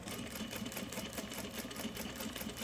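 A sewing machine stitches a patch onto a football jersey, a steady close-up whirring hum with a fast, even mechanical rhythm and no pauses.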